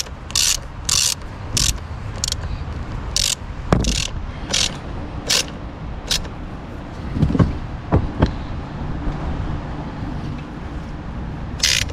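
A ratchet wrench tightens a car battery terminal on an Audi Q2, giving sharp, evenly repeated clicking bursts close up, with occasional metallic knocks between strokes.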